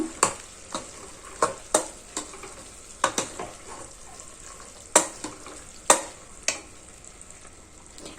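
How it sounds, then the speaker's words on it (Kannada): Ground masala paste fries for a rustic stem saaru, a soft sizzle punctuated by sharp, repeated spatula strikes and scrapes against the pan at an uneven, brisk pace. "ಈಗ ಹಾಕಿದಂತಹ ಮಸಾಲೆಯ ಹಸಿ ವಾಸನೆ ಹೋಗೋವರೆಗೂ ನಾವು ಒಂದು ಐದು ನಿಮಿಷಗಳ ಕಾಲ ಫ್ರೈ ಮಾಡ್ಕೋಬೇಕು"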